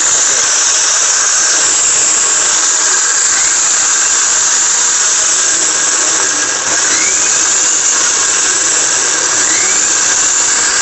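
A Havells kitchen blender whirs steadily at high speed on pulse, a loud continuous motor whine with a hint of rising pitch sweeps, alone without voices for about eleven seconds.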